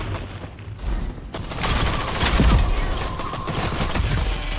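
Gunfire in a shooter video game, a sustained burst of dense shots that swells around the middle and holds steady, loud and close, with no talk over it.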